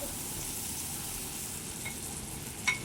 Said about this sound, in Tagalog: Ilagay ang binating itlog.